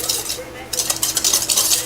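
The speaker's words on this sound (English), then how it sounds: "We just blend this all up until everything is nice and well mixed." Dry cornbread ingredients, including baking powder, sugar and salt, stirred in a mixing bowl: close, continuous scraping and swishing with a brief lull partway through, then steady brisk strokes.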